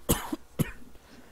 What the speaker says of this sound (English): I'm sorry if you hear me cough a little bit